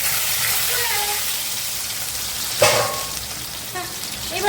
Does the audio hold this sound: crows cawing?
no